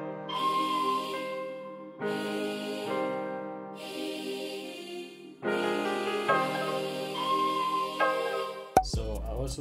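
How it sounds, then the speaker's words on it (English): A second bell layer rings out in an African trap beat built in FL Studio, sustained bright chiming notes in repeated phrases over the existing bell pattern, full and close, ending with a short percussive hit. "After that, I added another bell. It adds more ambience."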